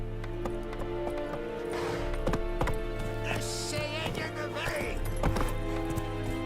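Roach, a horse in The Witcher 3, clip-clops along at a steady gait with a brief whinny, set against game music and ambient sound while someone talks intermittently.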